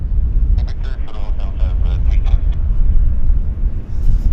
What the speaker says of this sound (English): It's a WestJet 737-800, which is now in position at the button there.